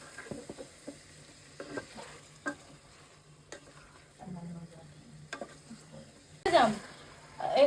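Boiled chicken pieces for yakhni biryani fry softly in a pot while being stirred, with faint sizzling, occasional clinks of a spoon, and a louder scraping burst near the end.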